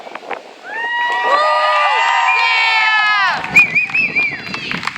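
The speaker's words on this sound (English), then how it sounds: "the more screaming, the more clapping, the more justice for Dee that we can hear, the better" Protesters at a Justice for Dee rally let out a loud, sustained chorus of high screams and shouts that swells and holds for a few seconds, then breaks into scattered cries and crowd noise.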